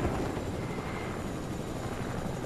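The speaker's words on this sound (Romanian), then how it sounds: "prostie de elicopter." Helicopter in the Fortnite video game, a steady droning rotor and engine roar that is moderately loud and continuous throughout, with no talking.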